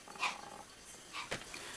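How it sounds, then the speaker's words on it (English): A small pet dog barks a few times in the background indoors, faint and distant, with short yips and a low growl. "I'm so sorry if you can hear my little doggy barking in the background"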